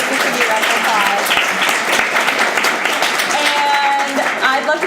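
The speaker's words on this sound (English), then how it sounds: "Cyndie, let's give you a round of applause" A room full of people breaks into dense, steady applause after a brunch talk with Cyndie Spiegel, continuous close clapping that stays loud for the whole stretch with a few voices mixed in.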